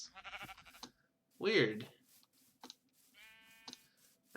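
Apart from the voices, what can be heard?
sheep bleating in the video game Minecraft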